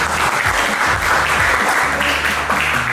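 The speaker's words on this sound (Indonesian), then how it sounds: "Tepuk tangan ya." Classroom applause from students, a steady dense clapping that fills the room throughout, with low voices murmuring underneath.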